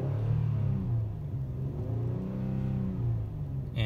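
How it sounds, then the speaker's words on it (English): A 3.5-litre V6 in a 2015 Ford Taurus Limited idles with a steady low rumble and a slight waver, close up and with no other sound. "So the engine runs good, it sounds good."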